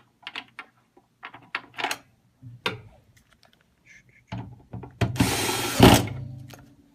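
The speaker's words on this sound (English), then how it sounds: "make sure we get the screws back in the right place" Screws are driven back into a CAS weighing scale during reassembly after calibration: scattered close taps and clicks, then a loud continuous whirring buzz of a powered driver lasting about two seconds near the end.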